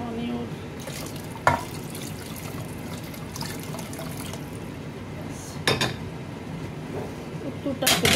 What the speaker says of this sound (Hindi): इसमें थोड़ा सा पानी और